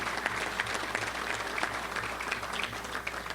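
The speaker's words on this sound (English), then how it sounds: "Let's give him a round of applause today." Audience at a Little Rock Touchdown Club luncheon applauding Keith Stokes, steady sustained clapping from a roomful of people.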